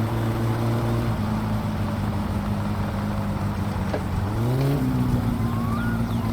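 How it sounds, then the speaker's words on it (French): A Satsuma's engine in My Summer Car blips and revs during a heel-toe downshift, a steady loud drone that dips and then sweeps back up, with no talk. "Je vais tenter un petit talon pointe."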